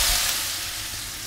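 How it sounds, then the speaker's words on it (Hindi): Steady hot-oil sizzle and crackle as a tempering is poured onto moong dal, fairly loud and close, holding through the short moment with no voices. "और अब हम इस तड़के को जो हमारी दाल बनी हुई है उसके ऊपर डाल देंगे।"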